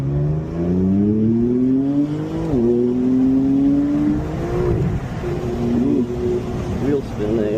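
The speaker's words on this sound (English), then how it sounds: "Wheel spin there." A car's wheels spin as it accelerates hard on a rain-soaked road, the engine note climbing steeply, dropping at a gear change, then rising again, loud and close, while a person talks over it.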